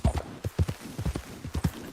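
Horse hooves clip-clopping in Red Dead Redemption 2, a steady run of about a dozen evenly spaced, fairly close thuds over two seconds with no talk.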